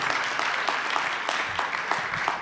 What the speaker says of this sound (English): Please, warm round of applause for Matt Southworth, CISO at Priceline.